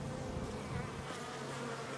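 Honeybees drone steadily around a syrup feeder at a hive, a dense, continuous buzz of many insects holding at an even, moderate level throughout with no voices.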